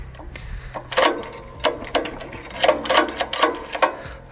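A jammed pull starter on a branch chipper rasps and clatters, with several uneven mechanical pulls and ratcheting bursts heard up close and fairly loud.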